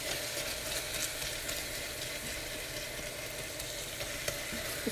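Green masala being fried in oil for a yogurt kadhi, a steady close sizzle with soft crackling and occasional pops, continuous throughout with no voices.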